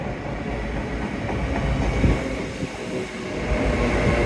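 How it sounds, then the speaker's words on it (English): A train rolls toward Newton with a steady, loud rumble of wheels on track and faint rhythmic clatter, heard from on board and continuous throughout, with no voices. "Yay, train!"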